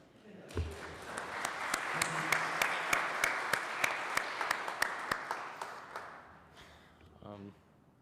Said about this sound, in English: So go ahead and give him a round of applause.